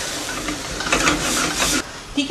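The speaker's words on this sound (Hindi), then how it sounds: "अब मैं इसको मिक्स करूंगी मसालों के साथ" Mash dal stirred into spices in a hot pan, a steady scraping swirl with soft sizzle and hiss, close and fairly loud, with a brief lull near the end.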